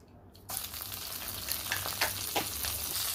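Cumin seeds hitting hot oil in a pan for veg murthaba, starting with an abrupt loud sizzle that holds steady with scattered crackles and pops, close and without voices.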